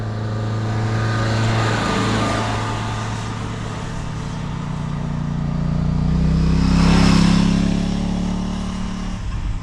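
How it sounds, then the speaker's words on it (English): A car engine labours uphill on a long steep road near Prestatyn, a steady droning hum that swells louder as it draws closer, then eases, with no talk over it. "Can you hear that car?"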